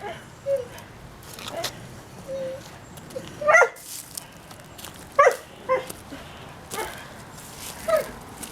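A hairless dog barks in short scattered yips and woofs while playing with toys indoors, the sharp barks clustered in a few bursts close to the listener, with a few soft whines between them.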